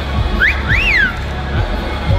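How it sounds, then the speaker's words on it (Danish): Whistling from a crowd at the DreamHack Masters esports event in 2017: two rising and falling whistles within the first second, heard over a loud constant hubbub of crowd babble. "Det er ikke os, de fløjter af."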